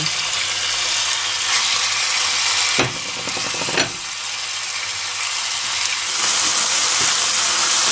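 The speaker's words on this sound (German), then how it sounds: "Jetzt werden wir das Hähnchenfleisch reinmachen erstmal. Ein bisschen anbrutzeln, anbraten." Chicken meat sizzles and fries in a pan while being browned for spring rolls, a dense continuous hiss close up, broken briefly by a couple of stirring scrapes and clatters.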